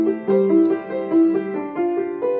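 A single-line melody played rubato, drifting slower and faster before easing slightly quicker, each tone clear and sustained with rich harmonics, close and solo with no talking.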